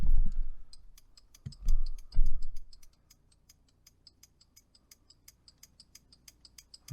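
A car's hazard light flasher unit clicks in a steady, even rhythm, faint and close, continuing alone after some low rumbling at the start.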